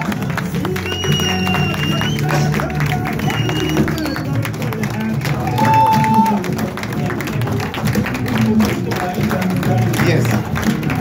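An audience in a Delhi office hall applauds to welcome a guest speaker, loose clapping mixed with crowd noise and some cheering. It rises and falls over about ten seconds while voices carry through it.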